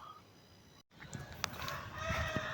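Faint clucking of backyard chickens close by, a few short calls scattered over a soft, quiet background.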